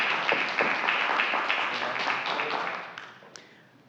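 Applause at a city council workshop meeting: a brief burst of steady clapping from a small room audience that tapers off over a few seconds.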